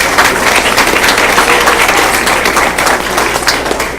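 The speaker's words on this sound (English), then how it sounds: "Let's give them a round of applause." A room at a school board meeting claps for the track and field coaches, a loud, dense burst of applause that holds steady over a low background hum and eases slightly at the close.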